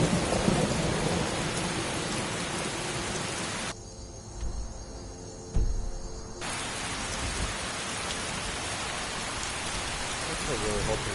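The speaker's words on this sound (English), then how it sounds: "They got this extremely real rain and stuff" Steady, heavy rain hisses in the Skyrim video game, with a deep rumble of thunder rolling in partway through. Loud and continuous, it briefly dips in level, and no talking is heard.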